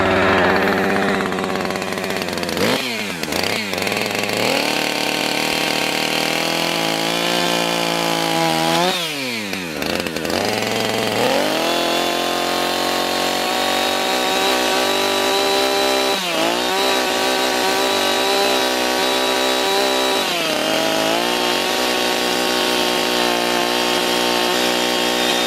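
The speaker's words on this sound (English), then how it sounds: "I think I'm going to cut them up a little bit with the chainsaw." A chainsaw cuts through ash wood, the engine running loud and steady at close range with brief dips in pitch as the chain bites into the wood, continuous for the whole stretch with no talking.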